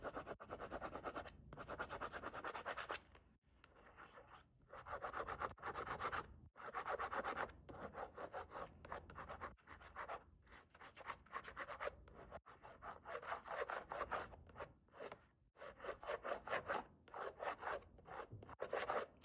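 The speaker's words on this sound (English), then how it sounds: "we can use like a stylus and do some scratchy scratch" A stylus scratches across an art card in repeated close, dry strokes, a steady run of rasping scrapes with short gaps between passes and no talk.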